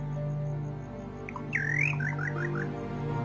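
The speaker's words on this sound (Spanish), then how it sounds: "Detengámonos a distinguir las especies de pájaro que lo pueblan y cuya vocinglería pareciera estremecer la fronda." Birds sing in scrubland at sunset: a rising whistled call followed by a quick series of short chirps over a steady hum, moderately loud and without talk.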